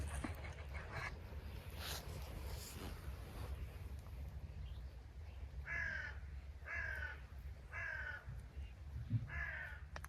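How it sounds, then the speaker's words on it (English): A flock of starlings calls during a murmuration in open air, giving a soft, busy chatter with four distinct harsh call bursts in a row near the end, over wind noise. "all the starling doing the murmuration as I'm just sat here"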